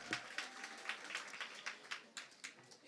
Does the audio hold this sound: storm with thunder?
no